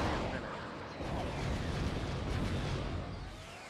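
Missiles launching and bursting in the aerial combat game Sky Gamblers: Afterburner make a dense, continuous roar of booms and rumbling explosions, loud and sustained with no clear gaps.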